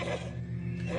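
Horse neighing as a radio drama sound effect, a single drawn-out whinny lasting about a second over a low steady hum, close and fairly loud.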